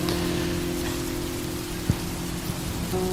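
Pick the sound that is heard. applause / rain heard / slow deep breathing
rain heard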